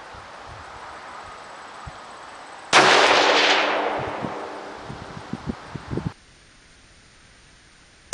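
A single loud long-range rifle shot cracks sharply out of quiet wind noise, then its boom rolls and decays for a few seconds with faint rustling before cutting off.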